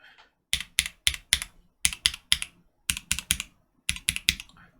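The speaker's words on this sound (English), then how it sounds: "I'm really enjoying the sound of typing on this board" Typing on a mechanical keyboard with Lavender switches produces crisp, close clacks in quick bursts of three to five keystrokes separated by short pauses, with no talk.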